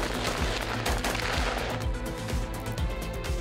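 Soldiers trained in urban combat fire live rounds during an exercise, sending rapid bursts of loud gunfire in quick succession with no gaps between the volleys.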